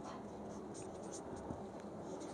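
Marker or chalk strokes scratch across a board during a math lesson, close and steady, while a teacher keeps talking throughout.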